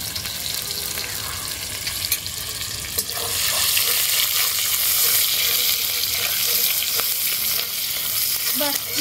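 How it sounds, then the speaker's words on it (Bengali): Chopped onions dropped into hot oil with bubbling sugar for a mixed vegetable dish: a moderate sizzle suddenly swells into a loud, continuous hiss of frying, with occasional stirring scrapes, close up. "তেলটা গরম হয়ে গেছে, চিনিটাও ফুটে উঠেছে। এবারে পেঁয়াজ কুচিগুলোকে দিয়ে দিচ্ছি।"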